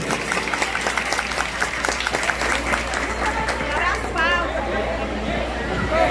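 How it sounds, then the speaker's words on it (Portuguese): Audience applause at a town's 30th anniversary ceremony in Brazil, loud sustained clapping over crowd chatter, with a low hum beneath and voices emerging as the clapping fades near the end. "Vamos aplaudir!"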